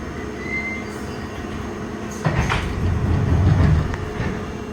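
A London Underground Piccadilly line train runs steadily with a rumbling low roar that swells and grows louder midway, wheels squealing and rattling on the track, no talk.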